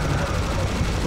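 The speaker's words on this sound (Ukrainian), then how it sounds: "Стріляю з мінігана, пробую це все знищити." Continuous dense gunfire from a minigun in the Serious Sam video game, loud and unbroken throughout with no pauses, filling the whole clip as a steady rapid barrage.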